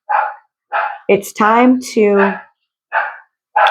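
A dog barks in short bursts in a home, several quick yaps spaced across the moment, fairly close and loud, alternating with a person speaking.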